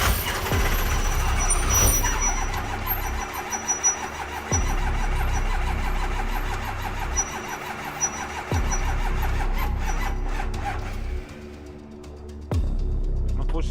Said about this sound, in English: Unfortunately, after hours of the engine wouldn't start.